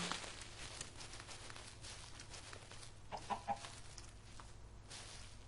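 Faint clucking from a Minecraft chicken, a couple of short clucks over a low steady background hum.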